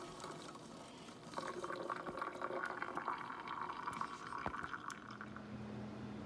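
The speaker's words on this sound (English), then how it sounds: "I'm just draining the beans." Cooked beans are drained, with a steady rush of water pouring and splashing into a sink for several seconds, close and continuous, then trailing off into a low hum.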